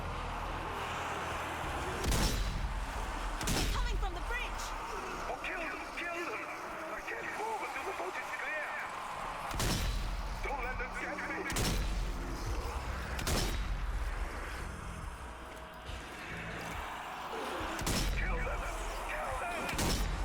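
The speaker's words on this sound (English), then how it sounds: "so you can just use your rifle only" Rifle gunfire at zombies in Zombie Army 4: Dead War: loud, widely spaced single shots boom out over an ongoing battle din, with a voice talking between them.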